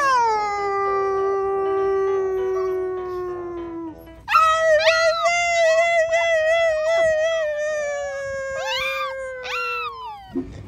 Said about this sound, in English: I think Bruno will howl.